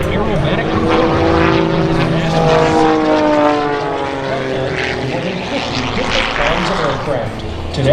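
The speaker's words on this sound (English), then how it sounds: "flying this 1956 de Havilland DHC-1, designed originally as a trainer for the Royal Canadian" A 1956 de Havilland DHC-1 Super Chipmunk aerobatic plane at an airshow, its propeller engine droning loudly overhead with shifting pitch as it passes, under a faint announcer's voice.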